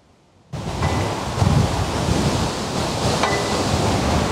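Strong wind roars into the microphone after a brief quiet start, a loud, steady rushing with faint metallic clinks of rings clanging somewhere in the background.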